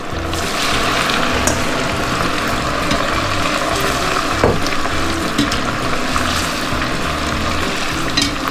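Chislic meat cubes deep frying in very hot oil give off a loud, steady, dense bubbling sizzle that runs continuously with no voices over it.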